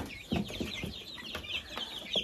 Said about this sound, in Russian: Красивый чубатый цыпленочек. Ливенский ситцевый.